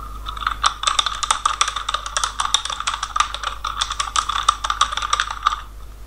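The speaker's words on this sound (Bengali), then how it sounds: "এখন আমি নিচের লাইনে আবার কিছু লিখবো" Typing on a computer keyboard while writing HTML code: a steady, close run of quick clicking keystrokes for several seconds, with no voice.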